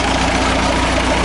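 A newly started engine with a loose, shaking exhaust manifold idles loud and close, a steady, unbroken rumble over the short span.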